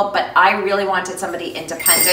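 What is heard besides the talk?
dog ringing a bell to go outside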